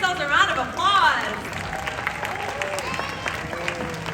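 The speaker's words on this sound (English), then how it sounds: "Everyone, give yourselves a round of applause." Crowd at a live Justice League show in Muscat, Oman applauds, with high whoops and cheers rising over the clapping at the start, then a continuous, fairly loud wash of clapping and voices that stays busy to the end.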